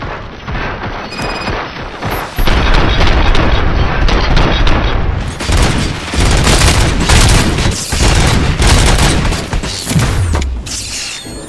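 Heavy gunfire and booming explosions from the RoboCop video game erupt after a quieter start, then continue as loud, sustained bursts and blasts that fade slightly near the end.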